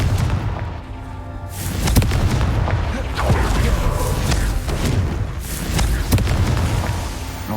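Repeated Confringo and Bombarda spell blasts in the Hogwarts Legacy video game, loud booming bursts one after another over a dense rumbling battle din, with a shouted voice mixed in.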